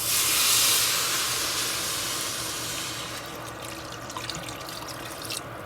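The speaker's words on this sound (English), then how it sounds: "In goes our water." Water gushes steadily into a hot pot of rice for vegetable biryani with a loud steamy hiss that gradually settles into bubbling and crackling.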